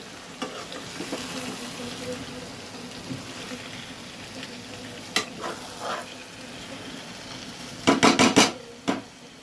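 Chicken chaap fries in a pan while being stirred, a low steady sizzle under soft scraping, then a burst of several sharp utensil clanks against the pan near the end, close and moderately loud.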